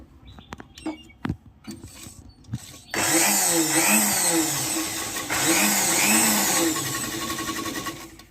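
A sewing machine stitches a six-panel petticoat from the top side. A few sparse clicks come first, then a loud, steady mechanical whir runs close up for several seconds.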